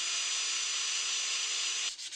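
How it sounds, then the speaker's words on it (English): Steady, hissing abrasive rubbing of hand sanding on a wooden skateboard spatula, continuous and close, cutting off briefly near the end. "And finally, sanding, of course."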